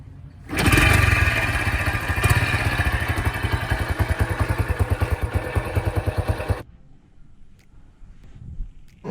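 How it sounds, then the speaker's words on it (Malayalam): A 2004 Yamaha Libero motorcycle idles up close, its exhaust giving a steady, rapid thumping putter for about six seconds before it cuts off, leaving faint background noise. "നമുക്ക് ഏതായാലും വണ്ടിയുടെ എക്സോസ്റ്റ് സൗണ്ട് ഒന്ന് കേട്ട് നോക്കാം"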